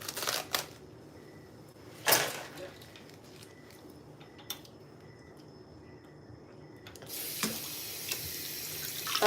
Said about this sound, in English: I'm going to need to rinse it.